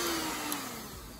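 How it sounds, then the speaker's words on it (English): A hair dryer blows steadily on hair being smoothed for a big, voluminous straight style, a close, continuous broadband whoosh with a faint high whine, holding an even level throughout. "put the dryer on it, let it go, and it helps smooth it out a little bit"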